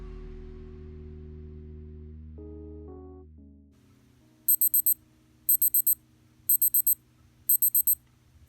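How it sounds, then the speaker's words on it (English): A Casio G-Shock watch (2738 module, 300/500 series) sounds its countdown timer alarm: repeated quick bursts of shrill four-beep chirps at a steady pace, close and clear over a low background hum. "since I left the auto repeat on, it will just keep repeating itself"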